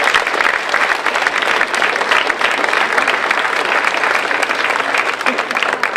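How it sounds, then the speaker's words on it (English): Audience at a civic volunteer awards ceremony applauding the nominees, a sustained, even round of clapping from a large crowd indoors, filling the room without a break. "So please join me in applauding all of these deserving nominees."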